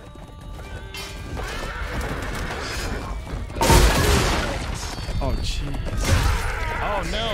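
A horse whinnies loudly over steady clip-clopping hooves in Chivalry 2, with a burst of game noise midway and voices chattering underneath.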